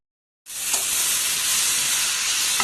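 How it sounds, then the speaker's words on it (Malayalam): Onion, okra, brinjal and tomato hit a hot pan for sambar with a sudden loud hiss that holds as a dense, close, steady sizzle to the end. "ഇനി നമുക്ക് സവാളയും വെണ്ടക്കായും വഴുതനങ്ങയും തക്കാളിയും വഴറ്റിയെടുക്കാം"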